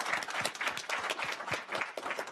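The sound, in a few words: audience applause for the panel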